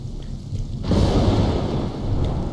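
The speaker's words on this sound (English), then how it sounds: "Hey, lightning, thunder" Thunder rolls in the game Investigator, starting from a quieter rainy backdrop and breaking into a loud, deep rumble that sustains with rain noise, fading slightly before swelling again near the end.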